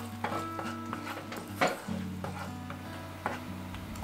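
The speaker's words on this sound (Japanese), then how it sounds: "焦げないようにまんべんなく混ぜ続けなければいけない" Steady scraping and light knocks of a spoon stirring thick yuzu miso paste in a pot on a stove, with a low hum underneath and occasional sharper clacks.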